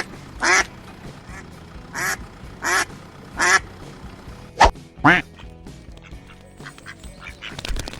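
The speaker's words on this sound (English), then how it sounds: "Ducks are water-loving birds with webbed feet. They can swim gracefully and make quacking sounds." A duck quacks in a series of about six loud, raspy calls spaced roughly half a second to a second apart, close by, with quieter farmyard noise between calls.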